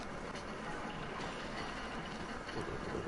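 A train rumbles past in Red Dead Redemption 2, a steady low, broadband roar with no breaks, heard at a modest level throughout.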